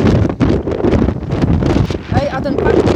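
Strong gusts of wind buffet the microphone in a constant roar in Greece, with rustling and faint voices underneath.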